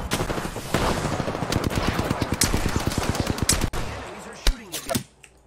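Automatic weapon fire in the video game Apex Legends: rapid, evenly spaced shots in a sustained burst, followed by a few louder single blasts before fading out.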